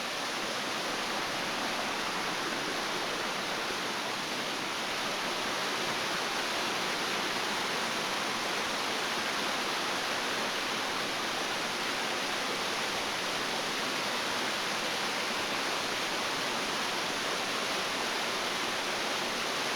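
Cataract Falls roars continuously, a dense, steady rush of falling water that fills the whole scene without pause.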